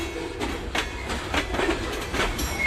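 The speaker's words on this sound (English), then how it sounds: "the engineer backs the train into the yard" A freight train in a Jacksonville rail yard backs slowly under two GE locomotives on a switching job, with steady rumbling and rhythmic clickety-clack of wheels over rail joints, loud and close throughout.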